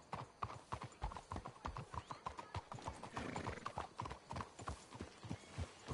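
Horses' hooves clip-clop steadily along a trail in the Western video game Red Dead, a quick even rhythm of sharp knocks that stays close and fairly quiet, with a faint snort partway through.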